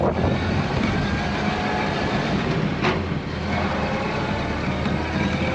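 A 1929 Ford Model A Depot Hack runs while driving on a chilly day, its engine giving a steady, loud rumble throughout with continuous road and wind noise, no talking.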